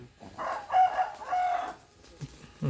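A rooster crows in the morning, one drawn-out call in two rising and falling phrases, fairly close and clear over a quiet background, followed by a couple of short soft sounds.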